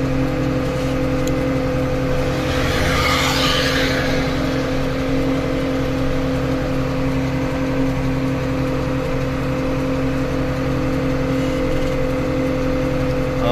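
A truck loaded with 12.5 tons climbs a toll road incline near Semarang in first gear, its engine droning loud and steady with a low tonal hum and a brief rise in noise partway through.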